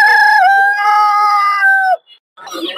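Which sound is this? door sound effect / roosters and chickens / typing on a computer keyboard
roosters and chickens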